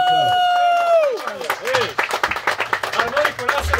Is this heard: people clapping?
yes